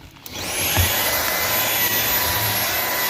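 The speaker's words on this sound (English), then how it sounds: "The vacuum doesn't even frickin' touch it." A Dyson vacuum cleaner on max suction spins up after a brief quiet start and then roars as a loud, steady whine and rush, used to clean baked-in grime during a Peterbilt 379 truck rebuild.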